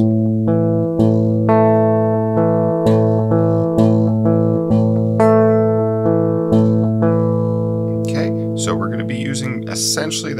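Fingerpicked acoustic guitar pattern from Madison Beer's "Selfish", a steady stream of plucked notes over sustained chords, played close and clear, with a brief scratchy handling noise near the end.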